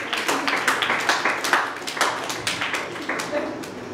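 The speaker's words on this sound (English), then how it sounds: "Come on, give him a clap." Audience clapping for a student at a school event, a dense patter of many hands under a noisy hall with voices mixed in, steady for a few seconds.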